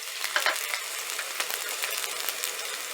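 Chopped garlic fries in a hot pan, giving a steady, soft sizzle and crackle with small spitting pops, close by and fairly quiet, with no voices.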